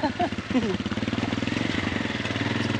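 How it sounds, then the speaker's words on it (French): A Mobylette moped engine putters with a fast, regular pulsing beat that steadies after a couple of seconds, while a voice talks over the start. "ça donne l'occasion d'aller faire une petite balade en moto, Mobilette"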